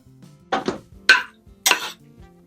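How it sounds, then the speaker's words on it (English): Canned Rotel tomatoes, undrained, go into a pot of melting cream cheese for taco soup, giving several short clattering, splashing bursts up close, with quiet gaps between them. "now we're just going to add our Rotel tomato"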